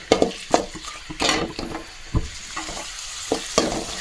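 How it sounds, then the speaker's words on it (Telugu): Onions fry in a pan until brown for a chicken roast, a steady close sizzle broken by repeated spatula scrapes and stirring knocks. "బ్రౌన్ కలర్ వచ్చేవరకు అట్లా ఫ్రై చేసుకోవాలి ఫ్రెండ్స్ ఎర్రగడ్డ అయితే వేసేసినాం"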